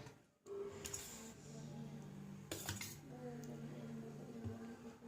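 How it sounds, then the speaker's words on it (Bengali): A spoon clinks and scrapes against a plate while chutney is served, with a few sharp metallic taps amid quiet background talk. "তো প্লেটে দিই চাটনিটা"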